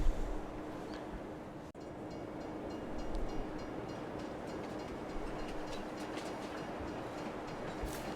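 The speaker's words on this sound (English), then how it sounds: "Okay, the train is going to arrive soon." A train arrives in Farming Simulator 22 with a steady, fairly quiet rolling rumble and faint clatter that continues throughout, with no talking.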